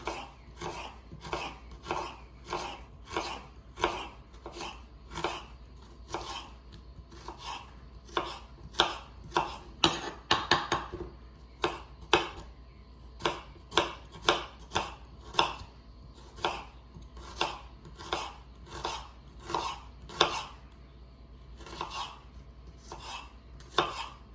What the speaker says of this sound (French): Et là, on va s'occuper de l'oignon nouveau. Voilà, on va le couper très fin.